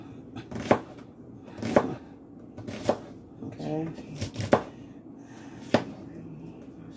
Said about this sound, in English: I'm going to take this piece of onion and just cut it sideways